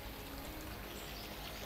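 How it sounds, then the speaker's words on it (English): A small waterfall pours steadily into a little round hotel pool at a Mediterranean-style hotel in Obzor, Burgas, giving a faint, even splashing wash with no voices. "there's a little waterfall coming down."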